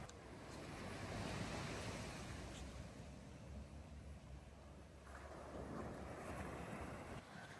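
Waves washing onto the shore close by, a continuous rushing surf with wind noise and no voices.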